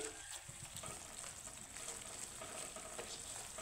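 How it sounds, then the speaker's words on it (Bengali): Spice masala fries in a pan over raised heat, giving a faint, steady sizzle with soft stirring scrapes throughout. "এখন মশলাটাকে আমি সুন্দর করে কষিয়ে নেব।"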